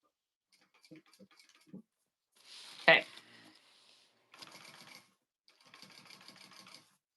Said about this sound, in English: then you're just flipping up the top piece and top stitching